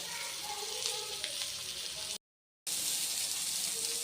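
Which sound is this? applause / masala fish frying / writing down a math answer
masala fish frying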